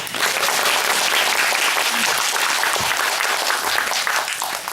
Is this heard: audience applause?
yes